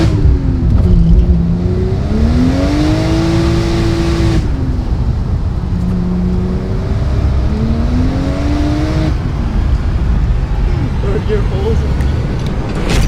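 A 1994 Toyota Soarer with a turbocharged 1JZ engine revs repeatedly nearby, its pitch sweeping up and falling back in several pulls, with a voice talking over part of it.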